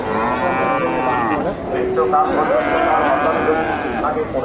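Holstein Friesian cattle at the Dhaper Hat cattle market in Bogura low in drawn-out moos, loud and close, under constant crowd chatter and talk.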